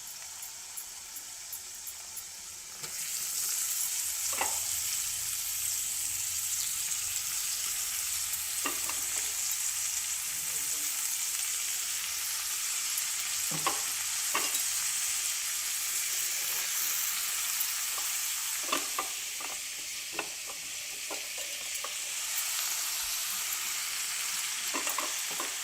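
Amaranth leaves and prawns fry in a hot pan, with a steady loud sizzle throughout and occasional scrapes and clinks from stirring. The sizzle swells sharply after a quiet opening.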